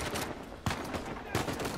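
Gunfire from the video game Uncharted 4 rings out over a busy battle din, two sharp shots standing out against a steady mix of background combat noise.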